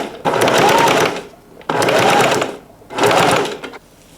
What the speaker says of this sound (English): we're going to sew this down, just top stitching like we did a second ago